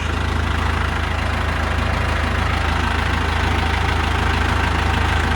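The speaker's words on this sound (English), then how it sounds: "You'll hear the unit engage and the impeller turn on." An ODB vacuum unit's engine runs steadily with the clutch engaged and the impeller turning, a loud, constant low droning hum with a rough mechanical texture and no pauses.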